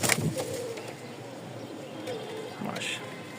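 Pakistani toy Lahori pigeons cooing close by, a few soft low throaty coos heard under someone talking.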